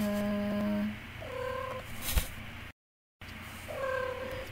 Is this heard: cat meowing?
yes